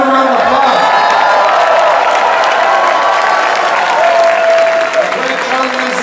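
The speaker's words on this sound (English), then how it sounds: "Give John a round of applause." A crowd at an 'Axe the Tax' political rally in Etobicoke claps and cheers loudly and continuously, with whoops rising above the dense applause and a voice speaking underneath.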